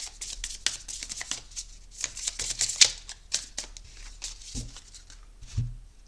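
A deck of tarot cards is cut and shuffled by hand in a steady flurry of close, crisp riffling and slapping, with a few soft thumps toward the end.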